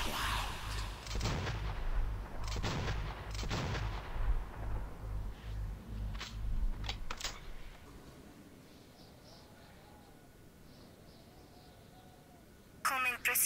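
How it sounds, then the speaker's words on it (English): Artillery fire and missile launches in the final battle of the Metro video game, with heavy booming blasts in the first half, fading to a quieter rumble, then a sharp burst at the end. "Artyom, the missiles are in flight!"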